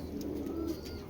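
Napta Giribaz pigeons coo in a low, steady murmur, close by and continuous for about a second, with no talk over it.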